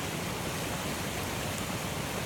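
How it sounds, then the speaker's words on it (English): A rain-swollen creek, usually a small babbling brook, rushes hard with foam on the surface, giving a steady, dense broadband roar of water that holds level throughout with no voices. "Usually it's just a little babbling brook, but that sucker's moving."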